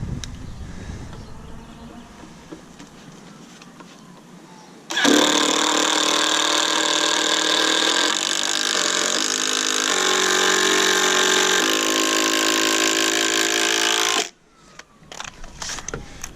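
A power driver fastening screws into a wooden raised garden bed, a loud whirring motor run of about nine seconds with shifting pitch as the screw seats, then quiet handling noises.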